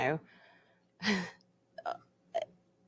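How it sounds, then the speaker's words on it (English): A single short, throaty burp from a person, close and clear, coming between bits of quiet talking. "sorry, I had a burp."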